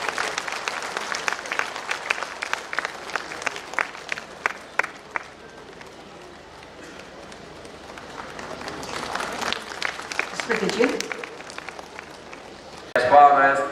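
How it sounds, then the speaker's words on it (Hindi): An audience at the Jharkhand Legislative Assembly foundation day event claps in scattered, uneven bursts that fade and then swell again, ending in a sudden loud flourish. "पुनः निवेदन करती हूँ माननीय तालियां हो आपकी ओर से।"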